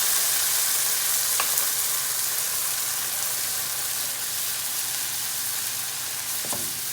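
Ground tomato, ginger and green chili masala frying in hot oil with coriander-cumin powder for a mixed vegetable dish, a loud, continuous close sizzle with a couple of faint spoon taps.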